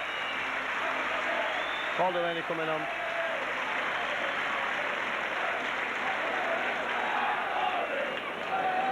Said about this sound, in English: He'll get a great ovation from the Leeds crowd